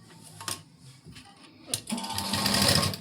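A sewing machine stitches a blouse sleeve onto the shoulder, starting with a few faint taps and rustles before the motor picks up into a loud, close, steady run.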